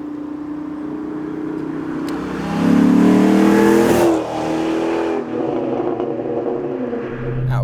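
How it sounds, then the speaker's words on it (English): Dodge Magnum SRT8 estate with its Hemi V8, a loud, droning exhaust heard from inside while driving, swelling into a rising rev before settling back to a steady cruising hum. "that exhaust noise is quite intrusive even when you don't want it to be. It is very drony"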